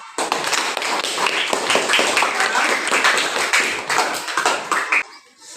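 Students in a classroom clap together for their classmates, a dense, steady burst of hand claps lasting about five seconds, then fading quickly at the end.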